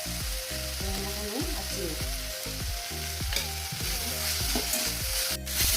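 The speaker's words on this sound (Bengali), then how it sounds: "শাক ভাজা হয়ে গেছে।" Leafy greens frying in oil with garlic and green chilli in a kadai, a loud continuous close sizzle with a regular stirring rhythm and a few light scrapes.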